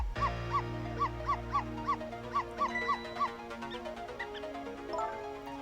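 A dog in the Ghost Trick video game barks repeatedly, a steady series of about a dozen evenly spaced yips over a sustained musical drone, with the barking growing busier toward the end.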